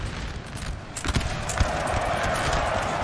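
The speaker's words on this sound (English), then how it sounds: "Horse artillery from Russia pushing over towards this side." Cavalry horses galloping in a Napoleon: Total War battle, a dense, continuous rumble of hooves with scattered thuds, fairly close and steady, set against a noisy battlefield backdrop.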